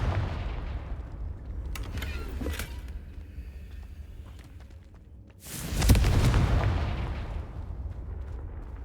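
A Confringo fire spell blasting in the video game Hogwarts Legacy, a booming fiery burst with crackling tail, preceded by earlier rumbling impacts and followed by a second, louder explosive whoosh that decays slowly.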